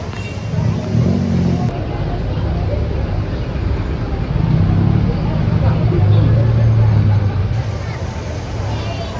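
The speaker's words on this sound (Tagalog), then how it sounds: "Sugod na ang traffic." Road traffic during a rally, with cars and buses rumbling past as a steady low engine drone and occasional revving, carrying a busy, continuous wash of street noise with crowd babble mixed in throughout.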